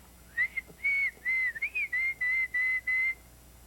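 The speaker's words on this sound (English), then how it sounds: "try to whistle" A single person whistles a short tune of about nine clear, sustained notes, close and alone against a quiet background.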